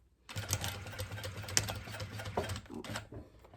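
A sewing machine runs in a continuous burst stitching a seam on a garment, close and fairly quiet, with small clicks and a stop near the end.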